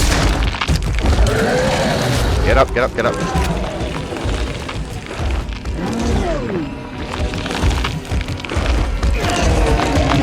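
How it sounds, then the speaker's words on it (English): A grenade explodes in the horror video game The Sinking City, giving a few heavy booms and splintering cracks amid in-game clatter while a person talks loudly over most of it. "Oh, that was a grenade."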